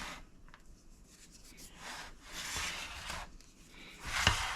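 Pound cake batter with baking powder mixed by hand, heard as quiet rubbing and scraping strokes in slow uneven sweeps, close and faint with no talking.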